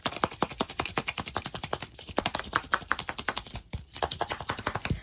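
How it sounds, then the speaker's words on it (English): A small plastic Mini Verse food capsule weighing 77 grams shaken by hand, giving rapid, dense rattling clicks of loose contents in a fast steady rhythm, close up and fairly quiet with no talking. "the sound the capsule makes depends on the direction that you shake it and how hard."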